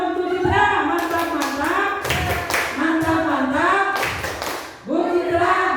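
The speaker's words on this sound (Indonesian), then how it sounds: "Tepuk mantap untuk Bu Citra" Rhythmic 'tepuk mantap' group clapping for a teacher, Bu Citra, at a school gathering. The claps are loud and close, mixed with voices chanting along through most of the stretch.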